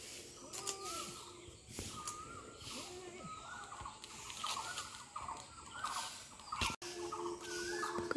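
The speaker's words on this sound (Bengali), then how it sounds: "কোকিল পাখি ডাকে" An Asian koel calls repeatedly from trees outdoors, giving a series of clear, rising whistled notes at a moderate distance over faint background ambience.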